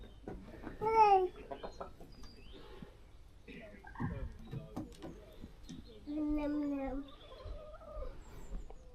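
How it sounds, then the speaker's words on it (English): Backyard chickens greet the morning with clucks and a rooster-like call near the start, later a run of clucking and squawks, all close by while a family chats and someone speaks among the birds. "The chickens are here."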